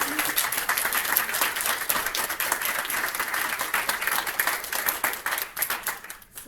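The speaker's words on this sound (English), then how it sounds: "I just wanted us to give another round of applause for Savannah" Audience applause at a congressional briefing on domestic violence, a steady wash of many hands clapping that fills the room and tapers off at the end.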